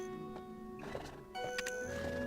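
Horse neighs and whinnies in the Black Desert Online video game, a loud whinny with hoof clip-clops over steady game ambience.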